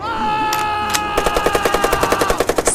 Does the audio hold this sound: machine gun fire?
yes